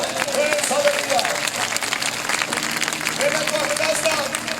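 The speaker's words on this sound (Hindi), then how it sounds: "आइए जोरदार तालियां बजाएंगे" A large congregation claps loudly at an outdoor Christian gospel festival in Karachi, dense, sustained applause with a voice rising over it at moments.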